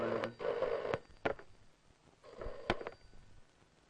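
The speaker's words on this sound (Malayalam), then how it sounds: "ആരാടാ ഈ പാതിരാക്ക് ഫോൺ ചെയ്ത് ഡിസ്റ്റർബ് ചെയ്യുന്നത്?" A telephone rings in the middle of the night inside a home in a Malayalam film scene, a few short electronic ring bursts separated by pauses, fairly quiet and with no voices over it.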